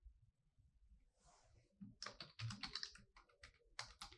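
A password is typed on a computer keyboard as a quick run of crisp, close key clicks that starts faintly and grows denser and louder, with no talking.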